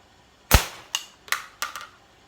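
A slingshot fired repeatedly at the same spot on a target gives one sharp close snap followed by three quicker, fainter cracks and impacts over about a second, with no talking.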